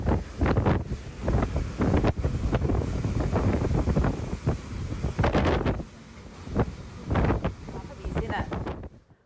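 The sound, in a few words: strong storm winds in Mumbai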